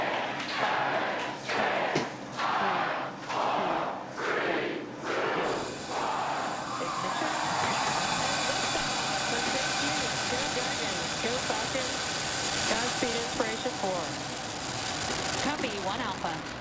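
SpaceX Inspiration4 launch: a steady, broad roar of the rocket climbing, rising after a few seconds of sharp, evenly spaced bursts and holding loud and continuous, with voices talking faintly over it.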